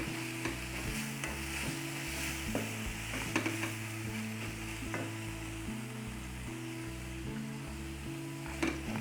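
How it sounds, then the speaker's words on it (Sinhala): A savory fish mixture sizzles steadily in hot oil, a dense continuous frying hiss with occasional stirring clinks, close and moderately loud, with no one talking. "දැන් මාළු මිශ්‍රණය තෙල් එකට දාලා තියෙන්නේ."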